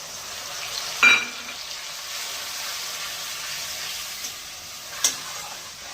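Onion and garlic fry in a pan with dried chilli, ginger and cumin for a cabbage bharta, giving a soft, steady sizzle close by, broken by a couple of sharp clinks.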